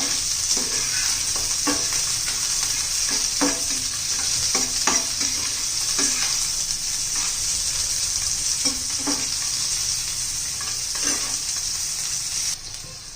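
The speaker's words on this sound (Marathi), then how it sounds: "शिमला मिरची घालायची आहे. तर आपल्याला हे जास्त नाही शिजवायचं, थोडंसं असं परतून घ्यायचं 2-1 मिनटं." Capsicum sautés in hot oil with onion for an egg chilli fry, giving a steady bright sizzle broken by repeated stirring scrapes of the spatula, with no talking.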